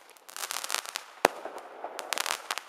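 Fireworks detonate on the ground outdoors in a rapid string of crackling pops, with one sharp louder bang partway through, close and fairly loud.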